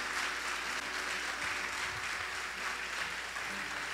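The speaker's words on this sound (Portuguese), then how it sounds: "Você pode aplaudir a Ele e o faça com alegria." Church congregation at a conference service applauding together, a continuous even roar of clapping heard from some distance with a faint low hum beneath.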